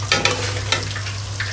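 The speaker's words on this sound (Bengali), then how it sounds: "এখানে খিচুড়ির জন্য মশলাটা কষিয়ে নিলাম" Spice masala for khichuri stir-fried in a hot pan, a short loud burst of sizzling with a few quick scraping stirs close up.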